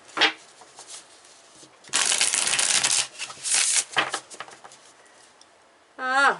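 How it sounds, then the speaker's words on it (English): Tarot cards shuffled by hand in short bursts, with a long, loud riffling run followed by several quicker, softer shuffles, close and clear, ending with a brief voice. "We'll give it another shuffle here."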